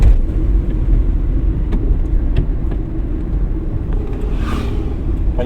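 A car in third gear during a driving lesson, heard from inside the cabin as a steady, close engine and road rumble that holds even throughout, with faint ticks and clicks above it.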